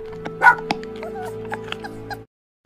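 A dog gives a short yip and a few soft whimpering barks over a steady musical hum, the sound cut off abruptly near the end.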